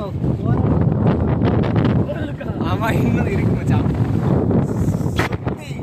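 Wind gusts batter the microphone on a hill during a hill climb with friends, making a loud, steady low rumble that continues under a man's speech.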